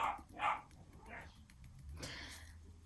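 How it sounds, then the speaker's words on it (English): A few faint dog barks in the distance, spaced irregularly over a quiet background. "now you've had sirens and a dog."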